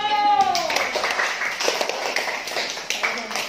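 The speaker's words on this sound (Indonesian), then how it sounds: "tepuk tangan untuk Aldo" A classroom of students claps for a classmate named Aldo after he reads aloud, a burst of many hands clapping close by that runs steadily through the moment, with voices mixed in.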